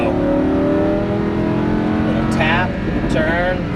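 Lamborghini Huracan LP610-4 engine droning steadily on a race track, a continuous loud note with shifting pitch as the car accelerates, heard under a driving instructor's talk throughout.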